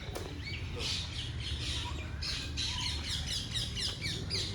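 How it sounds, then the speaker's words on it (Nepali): Black kite at a zoo giving a rapid series of shrill squawking calls in quick repeated bursts, fairly close over quiet background. "कालो चिल पो रहेछ त कालो चिल"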